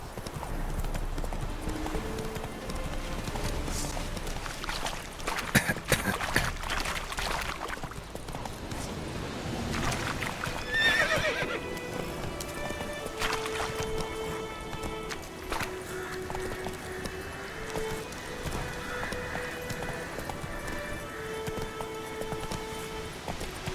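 Roach, a horse in The Witcher 3, gallops with loud, rhythmic hoofbeats and snorts near the listener, joined by a whinny, over game ambience and background music.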